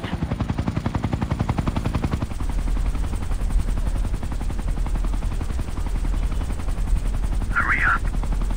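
Steady, pulsing helicopter rotor thump in the video game Ghost Recon Future Soldier fills the clip with dense rapid gunfire layered over it, loud and continuous.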